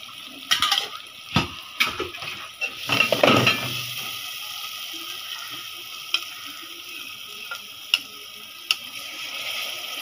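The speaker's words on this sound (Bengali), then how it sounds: "বাটিটাকে ধুয়ে দিব।" A bowl is rinsed under running tap water in a home kitchen while chicken curry is cooked, with clinks and knocks of the dish and a steady hiss of flowing water, busiest early on and followed by occasional sharp taps.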